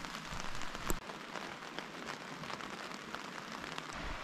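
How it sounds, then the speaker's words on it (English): Steady rain patters on a tent through the night at a wild camp in the Peak District, a close, even hiss with a few louder drops and no talking. "Well, it rained all night."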